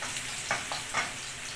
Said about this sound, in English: Ilagay na natin ang ating bawang.